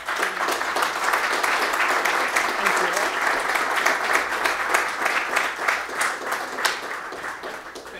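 Conference audience at BSides Las Vegas 2019 applauding after a talk, steady dense clapping filling the room for several seconds before tapering slightly at the end.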